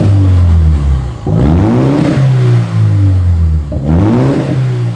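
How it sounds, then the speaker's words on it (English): A BMW F70 M135 with a full Milltek exhaust system revs repeatedly, several sharp throttle blips rising and falling over a loud idle, close by with no talking. "we've recently just fit a full Miltech system to the F70 M135. And it actually sounds all right"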